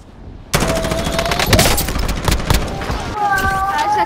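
Continuous loud automatic gunfire rattles in Call of Duty: Modern Warfare after a sudden start, close and sustained with tonal whines over the top, and no clear talk.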